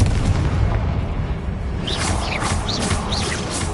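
In Hogwarts Legacy, a Confringo fire spell bursts in a dull, rumbling boom, followed by a rolling low roar and a few faint chirping effects.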